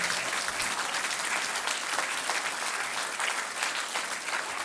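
An audience at a Hindi kavi sammelan poetry recital breaks into steady, dense applause from many hands, loud and continuous throughout without a break or voices on top.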